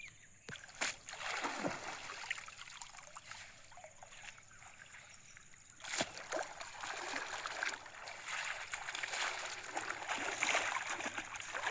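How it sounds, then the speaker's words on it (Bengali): Fishing nets are swished and rinsed in the water of the Ajay river, with splashing and trickling heard close and a few sharper splashes over a steady watery wash. "তাই ওই জালগুলো আমাদের পরিষ্কার করে নেওয়া হচ্ছে।"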